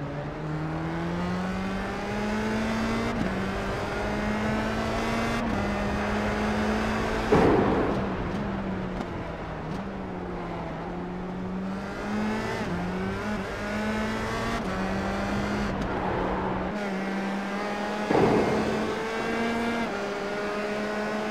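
Race car engine from the iRacing sim racing game, a steady loud drone with shifting pitch and gear changes, heard alone with no talk.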